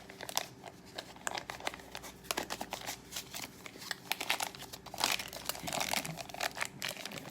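Fiberglass mesh being folded and stuffed into a small plastic medicine container, a close run of dry crinkling, rustling and scratchy rubbing, busiest toward the end, with no voices.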